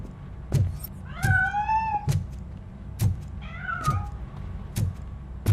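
Two drawn-out, wavering cat meows sound in the Robocop: Rogue City video game, set against repeated heavy thuds that mark a steady rhythm, with no talking.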